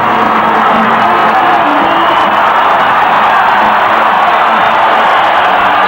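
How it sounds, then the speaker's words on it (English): A dense, steady roar from a boxing arena crowd at Mandalay Bay before the Oscar De La Hoya vs Felix Trinidad fight, loud and continuous throughout with no clear breaks. "This crowd will erupt in a moment."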